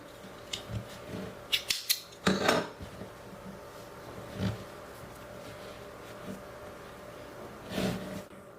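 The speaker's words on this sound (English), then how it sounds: "I'm going to cut my yarn here." Scissors snip through crochet yarn at the edge of a crocheted rug, a few quick close metallic cuts clustered together, followed by quieter handling sounds.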